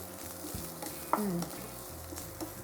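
Spoon stirring a pounded cumin, garlic and green chili coconut mixture into eggplant lentil curry in a pot, with a soft steady sizzle and a few brief scraping strokes, close and moderately quiet.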